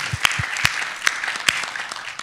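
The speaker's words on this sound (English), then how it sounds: "And then just clap for her." A short burst of audience applause with a few sharp, distinct claps standing out over a steady patter of hands, moderately close.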